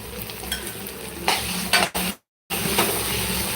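Roasted eggplant mash, a village-style bharit, is tipped into a hot pan and stirred, giving a close, steady sizzle with scraping and stirring scrapes, a brief drop to silence, then renewed frying.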